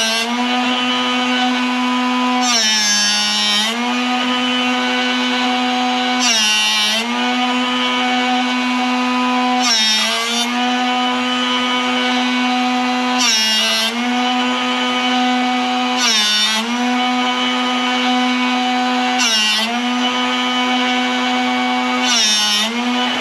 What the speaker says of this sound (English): keep going until you don't even hear the grinder touching the bit anymore